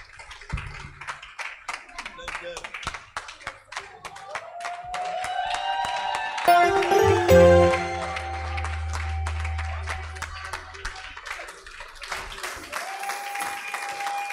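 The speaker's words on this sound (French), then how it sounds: "Acclame le Seigneur ce matin." A church congregation claps and calls out in praise during a morning service, steady crowd applause mixed with cheering and a singing or speaking voice over it, continuing throughout.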